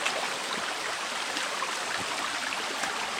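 A small forest creek flows nearby, a steady soft rushing and trickling wash of water that holds even throughout, with no voices over it.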